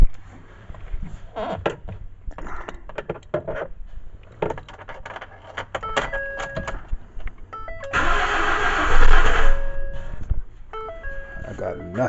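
A 2012 Ford F-150 pickup engine cranking and catching, a loud mechanical churn with rising roar and rattling, heard close up amid workshop clatter.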